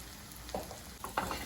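Masala of turmeric, coriander and chili powders for a prawn roast is stirred and fried in a pan, with a soft sizzle under three quick scraping strokes of the spoon.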